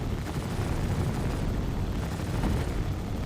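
Dense, continuous video-game gunfire and explosive rumble aimed at the players, a loud unbroken barrage with no pauses and no voices over it.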